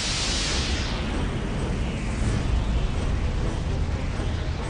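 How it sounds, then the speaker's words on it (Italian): Big Bang explosion sound effect for a documentary about the Milky Way: a vast, sustained roaring rush of noise that opens with a bright hiss and settles into a steady, loud rumble. "Energia e materia esplodono mentre l'universo si espande."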